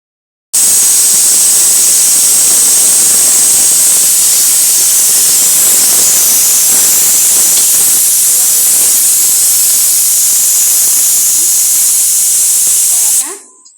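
Loud, steady steam hiss from a pressure cooker whistle venting during cooking, a dense continuous rush that holds for about thirteen seconds and then cuts off abruptly.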